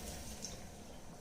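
Milk poured into a cooking pot, a soft, steady liquid trickle heard faintly and close with no talking.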